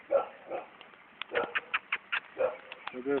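A dog whimpers and snuffles in a series of short, high, nasal whines and yelps outdoors, fairly close, with brief pauses between bursts.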